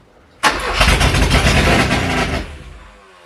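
A classic Porsche 924 that has sat for over 30 years cranks and catches into a loud, rough running roar close by, then fades out as the engine dies after about two seconds.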